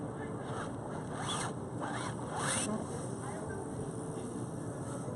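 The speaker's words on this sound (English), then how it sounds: "I just did big pencil lines, very faint, but big pencil lines through the sky." A pencil draws big, faint lines across paper outdoors during cityscape sketching, making several scratchy rasping strokes over steady ambient outdoor noise.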